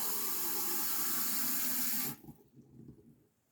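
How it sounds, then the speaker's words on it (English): Water pours steadily from a kitchen tap into a measuring cup for about two seconds, a loud, close broadband rush that cuts off abruptly, leaving faint drips and kitchen noise. "I'm gonna grab 1 cup of water."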